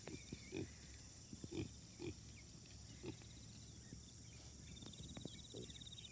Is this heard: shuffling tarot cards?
no